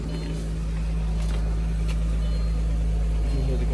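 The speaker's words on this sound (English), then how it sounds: "You can hear the compressor going" An Audi Allroad 2.7 biturbo's air suspension compressor hums steadily, a constant low drone close to the microphone that runs unbroken throughout.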